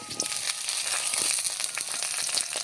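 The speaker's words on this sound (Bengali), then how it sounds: "প্রথমেই পটল দিয়ে দিচ্ছি তেলে।" Pieces of pointed gourd (potol) fry in hot oil with a dense, close, continuous sizzle and crackle, scattered sharp pops throughout.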